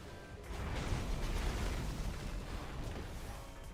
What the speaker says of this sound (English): Volatile explosion.